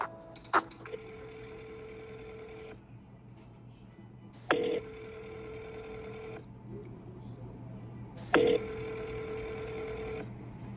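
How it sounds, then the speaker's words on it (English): A phone places a call, with quick clicks or keypad tones followed by a long steady tone that repeats three times with short gaps, close and clear, over a faint low hum. "So I pulled my phone out to try to call his line"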